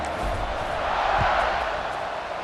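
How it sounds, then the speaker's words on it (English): Stadium crowd in EA Sports College Football 26 buzzing after a score: a steady, dense roar of many voices filling the whole stretch at an even level. "this crowd is buzzing after that last score"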